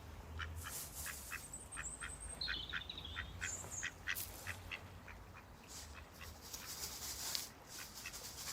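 A duck quacks outdoors by a high river in a steady run of repeated quacks, fairly distant and faint over a low rumbling background.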